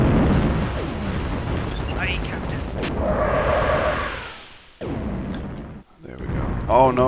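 Nuclear missiles detonate in the space game EV Nova, giving a broad rumbling blast with a hissing, whooshing tail that swells and fades; someone talks excitedly over and between the bursts.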